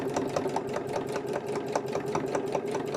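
A sewing machine stitches fabric gardening journal covers, its steady rapid mechanical chatter running continuously and close up with a regular pulsing rhythm and no talk.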